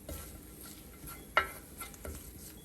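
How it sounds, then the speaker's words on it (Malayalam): Crushed garlic and two green chillies, with curry leaves, sizzle softly in hot oil for a Kerala shrimp fry, a faint steady hiss broken by a sharp utensil clink. "ചതച്ച് വെച്ച ഇതില്ലേ ഗാർലിക്കും ആ 2 ചില്ലിയും കൂടെ ഉള്ള അതിനകത്തോട്ട് ഇട്ട് കൊടുക്കാം"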